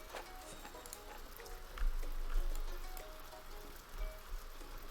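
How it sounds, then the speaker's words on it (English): Soft, steady rain patters in the video game Stonehearth, faint and distant, with a few slightly louder droplet bursts scattered through it. "Under the rain for now."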